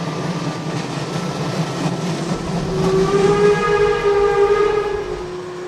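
A passenger train rolling along the railway near Budapest, a steady rumbling clatter that swells midway as a long sustained whistle-like horn tone sounds, continuous throughout without speech.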